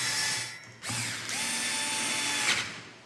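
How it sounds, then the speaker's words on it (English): A power tool tightening the four screws that fix a friction pack onto an RS800 transmission, steady whirring and ratcheting runs of about a second each, close and loud with short pauses between. "fix it with the four screws, respecting the screwing torque."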